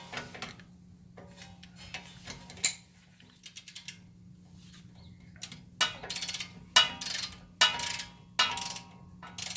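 A hand ratchet loosens a suspension bolt on a Honda Odyssey during CV axle work, giving several bursts of rapid clicking that grow busier toward the end over a low steady hum.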